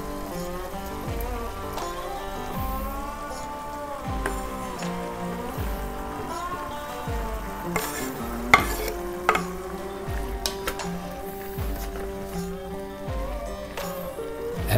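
Garlic and tomatoes cook in a pot of hearty stew with peppers, a soft sizzle under repeated stirring scrapes, while steady background music plays throughout.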